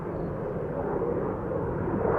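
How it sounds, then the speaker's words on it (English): An Aer Lingus jet departs for Dublin from Amsterdam Schiphol, a steady, moderately loud engine rumble that swells slightly toward the end. "This was Aer Lingus to Dublin."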